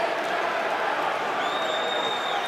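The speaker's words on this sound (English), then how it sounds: "The crowd are very unhappy" Rugby stadium crowd at a Heineken Cup match between Northampton Saints and Scarlets, a steady, unhappy roar of voices heard from a distance, with a faint whistle rising near the end.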